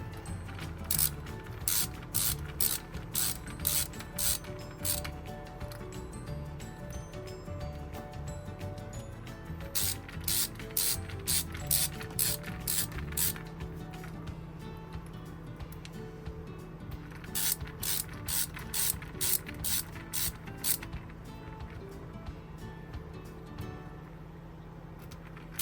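A ratchet clicks in quick, rapid bursts as it drives screws into an Airstream AC return mount, three clear runs separated by short pauses, close and fairly quiet.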